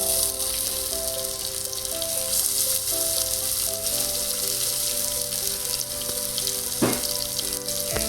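Rasam ingredients crackle and sizzle in hot oil, a loud, steady, close frying hiss with one sharper splash or clatter near the end.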